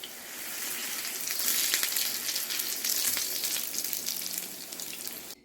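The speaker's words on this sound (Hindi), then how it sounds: "प्रेस करने के बाद थोड़ा सा इनको और फ्राई करूँगी" Aloo chicken kebabs frying in a pan and pressed down, a steady bright sizzle of hot oil running throughout, close and fairly loud, with no talking.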